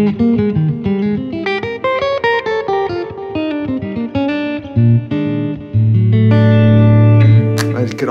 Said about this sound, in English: It still has a nice clean tone.